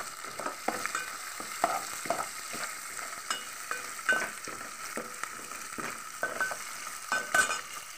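Onions, green chillies and ginger fry in hot oil for a tempering, giving a steady, close sizzle broken by frequent stirring scrapes and crackles.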